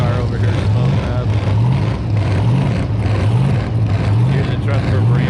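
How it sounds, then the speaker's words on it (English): Big supercharged gas race car engine at the Bonneville Salt Flats impound lot, a loud, continuous low rumble with a cycling, loping tone close by and no break. "Big old blown gas car over here smoking up."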